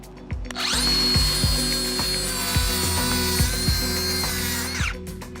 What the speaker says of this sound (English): if we take this saw right now that I have a really nice 48 tooth blade on, it's gonna cut plywood really nicely